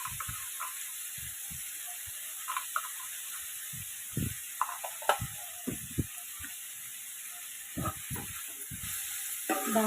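Broad beans curry with ginger and green chillies cooking in a pan, a faint steady sizzle under scattered soft clicks and scrapes of a spoon stirring, fairly quiet throughout.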